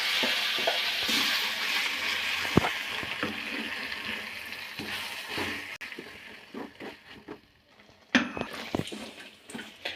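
Ground masala for a capsicum curry fries on a low flame with a steady sizzle that fades partway through, followed by scattered clinks of a spoon against the pan.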